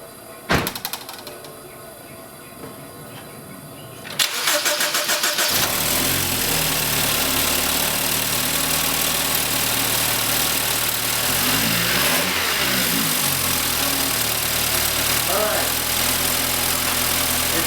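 A BMW N20/N26 four-cylinder car engine, low on fuel after valve cover work, cranks once, then cranks again and catches, settling into a steady close idle with a brief rev; a door-like thump is heard early.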